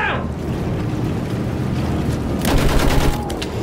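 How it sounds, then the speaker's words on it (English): Battlefield 1 combat with a mounted machine gun sweeping the ground from a moving vehicle. A rumbling engine and background battle noise lead into a loud, rapid burst of automatic fire near the end. "Use the MG! Sweep the ground!"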